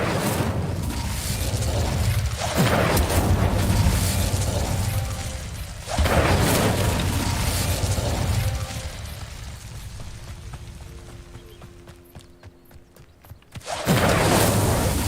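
In Hogwarts Legacy, the Incendio fire spell erupts in repeated loud whooshing bursts of flame and booming impacts, separated by rumbling fiery tails and a quieter lull before a final blast.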